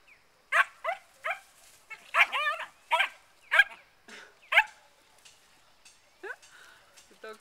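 Several dogs yap and bark in quick uneven bursts, close and fairly loud, with a few higher whimpering yelps near the end, at a garden home with a horse and fig tree.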